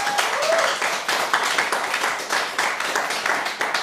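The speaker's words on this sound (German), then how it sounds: "Da können die, die im Saal sind, gerne mal klatschen" An audience in a hall claps together, a dense steady patter of many hands lasting several seconds at moderate volume.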